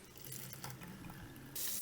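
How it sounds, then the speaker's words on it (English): Cold tap water running steadily into a sink while Shark Stratos vacuum filters are rinsed, a soft continuous splashing flow that briefly brightens into a stronger gush at the end. "I'm just going to rinse these out in cold water."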